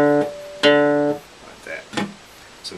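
Two sustained harmonic notes, a melody stepping from G up to D, played as tones from about 0.1 to 1.1 seconds, followed by a few faint, brief knocks and sounds.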